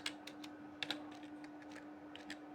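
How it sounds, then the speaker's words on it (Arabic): An npm command is typed on a computer keyboard. The key clicks come close and quiet in an uneven run, with a faint steady hum behind them. "اول حاجة عشان نعمل مشروع لازم نكتب npm"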